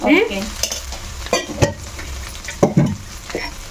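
Ginger paste frying in a pan for a masala paneer palak curry, a low sizzle under a few distinct scrapes and clinks of a spoon stirring, close and fairly loud, with no talk.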